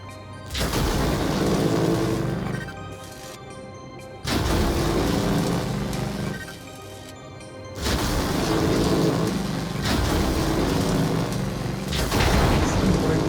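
Heavy repeated booming fire from mech weapons blasting a hopper target in the VR game Vox Machinae, loud sustained bursts a few seconds long separated by brief lulls.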